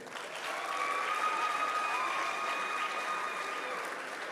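Sustained applause from a graduation ceremony audience for MYP students, a steady wash of many hands clapping at moderate level, without speech, somewhat distant and even throughout.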